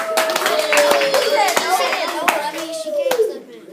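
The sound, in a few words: round of applause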